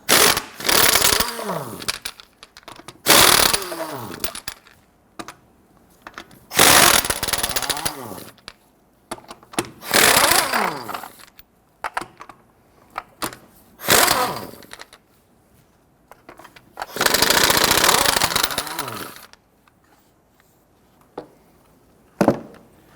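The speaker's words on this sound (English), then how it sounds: "Using a 21mm socket, go ahead, loosen and remove your lug nuts." An impact gun with a 21mm socket removes lug nuts from a 2005-2021 Nissan Frontier truck wheel in loud, close bursts of rapid hammering, about six separate runs of a second or two each, with quiet gaps between them.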